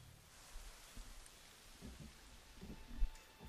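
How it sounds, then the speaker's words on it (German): Steady rain falling in the video game Assassin's Creed 3, with low rumbling underneath and a few soft thuds, moderately quiet and continuous. "Es regnet."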